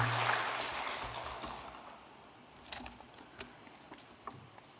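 Applause welcoming a pastor to the stage at a church revival service. It starts as a full wash of clapping, then thins and fades to a few scattered claps.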